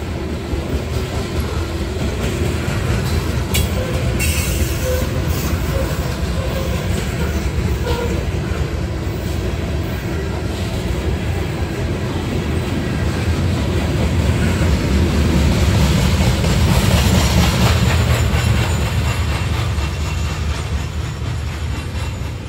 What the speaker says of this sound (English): Another grain train.